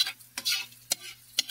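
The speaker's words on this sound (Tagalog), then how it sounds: "sa isang malinis na kawali, mag-isa lang tayo ng bawang at sibuyas" Garlic, onion and ginger sautéing in a clean pan for a Filipino pakbet, a few quick scraping stirs and soft sizzles in short bursts, close by, with no talking.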